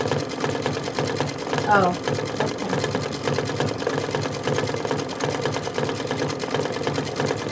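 An embroidery sewing machine runs a steady placement stitch, its fast mechanical hum and needle chatter continuous throughout, with a brief voice exclamation partway in.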